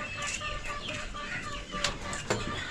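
Chickens clucking close by in a poultry setting, a few soft, irregular clucks and calls over a low background murmur.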